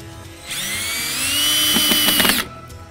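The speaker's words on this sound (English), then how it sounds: "we line up the pre-drilled holes, put the screws in" A power drill drives screws through pre-drilled holes while assembling a wooden Rhode Island hen house chicken coop, its motor whining steadily for about two seconds, rising in pitch, then stopping, loud and close with no talk.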